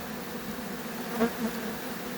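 A steady, droning buzz of many honey bees around a hive, close and continuous, with a couple of brief louder swells as individual bees pass nearby.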